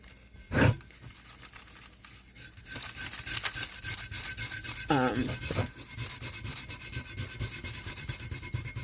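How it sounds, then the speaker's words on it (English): Hard rubbing to burnish a decal onto a tumbler, a steady raspy scraping texture that runs nearly continuously and fairly close, with one sharper burst early on and no talking. "sometimes you have to rub pretty hard to get it to burnish"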